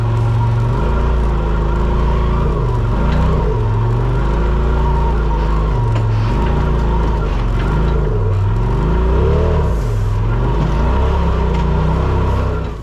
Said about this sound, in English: gonna hop back in with Jason here again and ride up the Widowmaker now